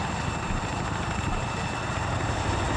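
A helicopter with two miniguns in the Arma 3 video game gives a loud, continuous rotor and engine drone that stays steady and close throughout, with no speech.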